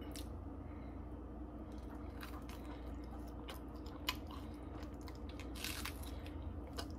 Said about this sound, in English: And we're going to take one good bite.